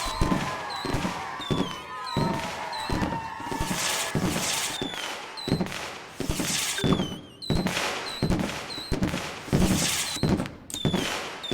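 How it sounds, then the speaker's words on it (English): Fireworks going off in The Universim, a city-building video game, as repeated sharp bursts and pops at a steady rhythm, with whistling rises between them, fairly loud and continuous with no talk. "all the fireworks."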